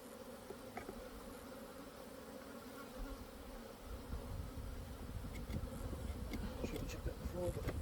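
Honeybees buzz around an open hive while a super is added, a dense, continuous hum close by that grows louder and fuller partway through, with faint handling clicks.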